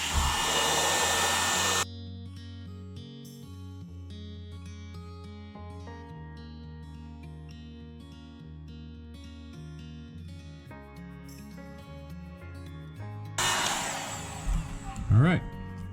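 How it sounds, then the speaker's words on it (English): A hairdryer heating the hot glue on the base of a snow globe with Easter bunnies in a boat, a loud steady airflow roar at the start and again near the end, separated by background music. "use the hairdryer to heat up the hot glue, melt it"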